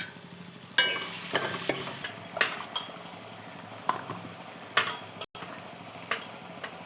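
Tomatoes and onions with turmeric and salt are stirred and sautéed in a pan for a drumstick and brinjal curry, a soft sizzle under repeated scraping and clinking of a spoon against the pan, close and without talk.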